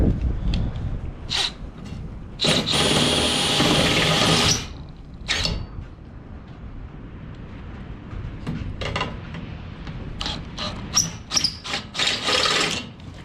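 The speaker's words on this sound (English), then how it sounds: "now the metal's thin enough that whatever's left of my step bit will be able to take it out to 3/4" A worn step drill bit cuts a hole through thin metal on a custom trailer fender, a harsh grinding burst of about two seconds followed by shorter scrapes and clanks nearby.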